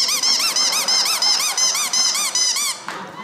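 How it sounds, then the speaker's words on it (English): A cat gives a series of high, squealing squeaks in a prank, loud and close, repeating in quick bursts for a few seconds before cutting off. "I thought it'd be funny to make the cat squeak,"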